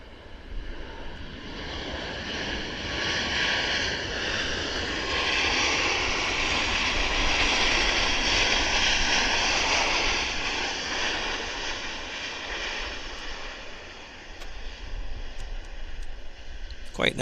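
An airliner landing at Vancouver Airport and braking hard on the runway, its engine roar swelling with reverse thrust and then easing off as it slows, with voices talking faintly in the background.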